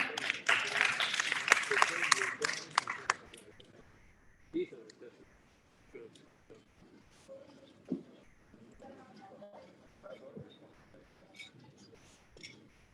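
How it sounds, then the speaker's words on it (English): Seminar audience applauding a climate activist as she comes to the stage, a brief burst of clapping for the first three seconds, then scattered handling noises and quiet speech. "Can we give her a round of applause?"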